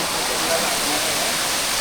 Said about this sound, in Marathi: झऱ्याचा पाणी वाहतोय बघा.